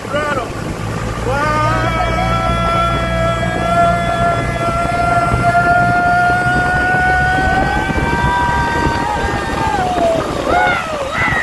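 Motorboat engine running at full throttle on a river route through a Bangkok floating market, a loud, steady roar with rising whine that holds nearly the whole time while people talk over it.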